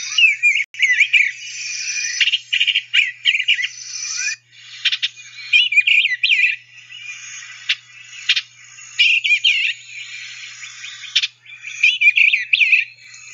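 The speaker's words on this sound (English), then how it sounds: "The song sounds like the bird is saying a very rich warbling note, something along the lines of cheer chivel charmer" Thrush-family bird singing a rich warbling song in repeated phrases separated by short pauses. The song is clear and fairly close, with no voices.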